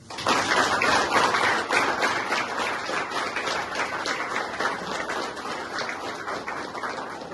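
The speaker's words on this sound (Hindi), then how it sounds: "इसमें जोरदार तालियां" A group at a rehabilitation society gathering claps enthusiastically for a member's second sober anniversary, a sustained, fairly dense round of applause that holds steady and tapers slightly.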